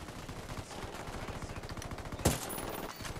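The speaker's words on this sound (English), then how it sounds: "Shots fired. Unidad's engaging the cartel." Rapid gunfire in Ghost Recon Wildlands during a firefight with cartel members, with a dense stream of shots and a sharper, louder burst near the end, no talk.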